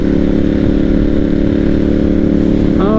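A Ducati Monster 796 motorcycle engine drones steadily at highway cruising speed around 75, loud and close with constant wind rush and a brief pitch shift near the end, with no talk.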